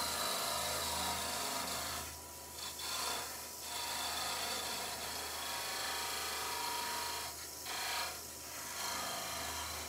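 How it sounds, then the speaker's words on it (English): A Christmas tree bird box is being parted off on a wood lathe: a continuous hum of the spinning lathe under a steady rasping scrape of the tool on wood, with a few short dips in intensity. "move on and part this one off"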